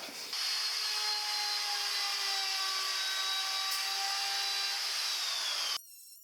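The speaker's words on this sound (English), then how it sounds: "I'm going to route these three edges in the same manner that we did with the kitchen worktop" Handheld router shaping the edges of a wooden board for a camper van kitchen unit, a loud continuous high-pitched whine held for several seconds before cutting off abruptly.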